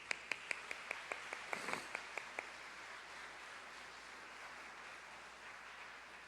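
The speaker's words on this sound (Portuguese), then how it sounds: "Salva de palmas para essas pessoas" Church congregation applause in a Portuguese-language service comes through as a short run of about a dozen sparse, distinct claps that fade after a couple of seconds into quiet room tone.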